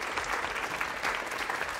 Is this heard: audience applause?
yes